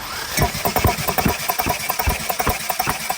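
A Tata truck diesel engine cranking on the starter during a cylinder compression test, with a steady rapid chugging rhythm of compression pulses, loud and close with no voices.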